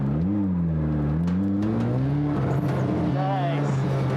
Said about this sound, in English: The drifting is actually extremely tough in this car.